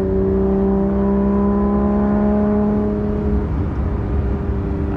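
A 991.2 Porsche GT3 RS on a street, its engine whining in rising harmonic tones as it accelerates hard, loud and close, with gear-change shifts toward the end.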